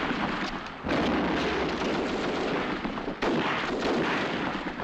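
Mortar shells fire and burst in a 1944 British WWII battle scene, two heavy booming blasts a few seconds apart over a dense, continuous rumble of gunfire and debris.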